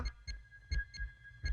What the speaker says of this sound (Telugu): నిమిషానికి రెండు వందల సార్లు కొట్టుకుంటుంది గుండె